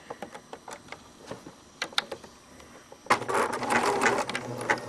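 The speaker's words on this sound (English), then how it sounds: "what I'm going to do is do some zigzag stitches so that the needle, when it comes over to this side, is running right off the edge of the fabric" A sewing machine runs a zigzag stitch along a fabric edge to finish a seam, with the needle swinging off the edge. It starts with sparse, separate stitching taps, then becomes a loud, steady, continuous whir.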